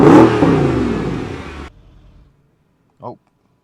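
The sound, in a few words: Mercedes CLS 63 AMG engine revving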